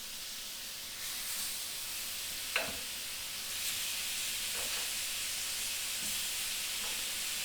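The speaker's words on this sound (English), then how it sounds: "We're gonna just lightly sear each side, and then we're gonna go ahead and turn it over." Food sears on a hot Himalayan salt brick with a faint, steady sizzling hiss, and a few soft taps and clicks break through now and then.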